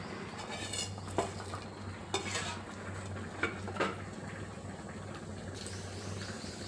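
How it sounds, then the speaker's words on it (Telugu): Urad dal, mustard seeds and cumin are tempered in hot oil in a pan for a ridge gourd and lentil dish. Spluttering sizzle sounds under sharp metal clinks of a spoon against the pan, with no talking. "నూనె కాగుతుంది. మినప్పప్పు, ఆవాలు, జీలకర్ర వేసుకోవాలి."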